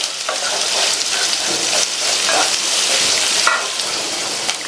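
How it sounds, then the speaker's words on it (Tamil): Sliced onions with curry leaves sauté in hot oil in a pan, giving a steady, close sizzle with soft stirring scrapes throughout and no talking. "இந்த வெங்காயத்தை 2 நிமிஷத்துக்கு நல்லா எண்ணெயிலேயே வதக்கி விட்டுக்கோங்க."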